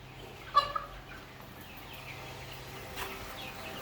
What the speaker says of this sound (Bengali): এটা দেশি মোরগ এখানে রাখছি আর এদের সাথেই।